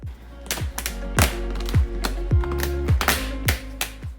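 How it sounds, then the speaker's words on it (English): A vinyl plank flooring end cap is pressed onto its screwed-down track, giving a run of sharp, close tapping clicks and crunches in an uneven rhythm of about a dozen hits. "then attaching the end cap until you hear the satisfying crunch"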